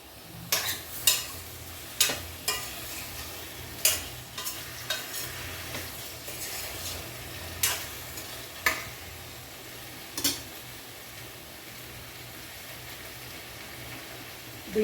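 Tomato pieces fry in oil over a medium stove, a low steady sizzle broken by several sharp spatula taps and scrapes against the pan, close and without speech.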